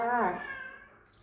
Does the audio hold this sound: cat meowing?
yes